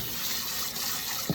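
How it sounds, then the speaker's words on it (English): Cold tap water runs steadily into a basin of cooked dumplings, a close, continuous rushing splash with a small gurgle near the end. "I'm going to run some cold water"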